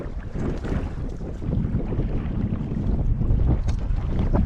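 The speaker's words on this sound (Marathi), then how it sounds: "वारा बघू शकता मित्रांनो किती आहे वारा." Wind blows hard over the sea while mullet are netted from a small fishing boat, a loud, continuous rushing roar with microphone buffeting that swells stronger toward the end.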